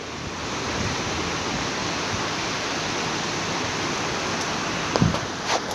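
The Ganges rushing past a stone path at Rishikesh, a dense, steady roar of flowing water filling the scene, with a brief knock near the end.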